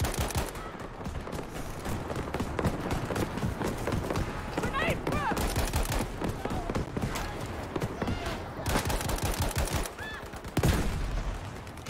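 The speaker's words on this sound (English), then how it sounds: "Dude, there's a flak cannon." Rapid bursts of gunfire and heavy flak cannon blasts from Battlefield 5 multiplayer combat, dense and continuous with loud booms, overlapped by player talk.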